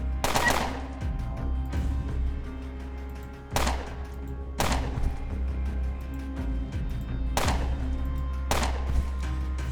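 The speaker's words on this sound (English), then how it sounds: "let's rapid fire the pit bull" Rapid bursts of gunfire aimed at a pit bull in the video game Underrail, heavy booming volleys recurring about every second or so over a low droning background, with no voices.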